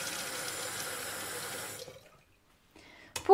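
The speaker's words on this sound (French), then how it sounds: "Ici, nous avons le robinet." A kitchen sink tap runs with a steady broadband rush of water for nearly two seconds, then shuts off into quiet before a few brief clinks and a short burst at the end; no one speaks.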